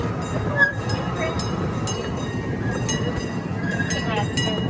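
Saint Louis Zoo's Emerson Zooline miniature railroad train running, a steady rolling rumble with faint clinks and brief metallic squeals under a calm spoken station announcement.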